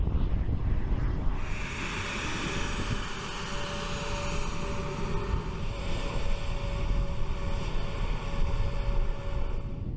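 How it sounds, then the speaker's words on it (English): An A-10 Thunderbolt, a twin-engine combat jet with its engines mounted high by the tail, roars steadily for ten seconds, a broad rushing drone with a thin sustained whine running through it. "This dual-engine combat aircraft was designed with engines high on the tail"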